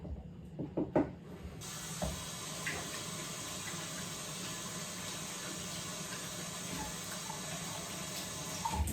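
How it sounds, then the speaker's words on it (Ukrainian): Hands are washed under a running kitchen tap while baking, a steady hiss of flowing water after a few brief knocks and clatters at the start, continuing evenly at low volume. "мою руки"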